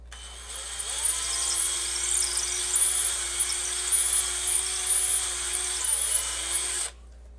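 A drill fitted with a thin bit bores holes in one continuous high, steady whine lasting about six seconds, close up, then cuts off abruptly.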